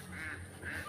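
Ducks (itik) on a Philippine rice farm give two noisy bursts of honking quacks, moderately loud and close, over a steady low background hum.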